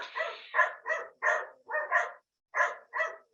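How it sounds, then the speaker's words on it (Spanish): Neighbours' small dogs bark in a quick run of about eight sharp yaps, moderately close and clear against otherwise silent surroundings. "unos vecinos que están ladrando, unos perritos."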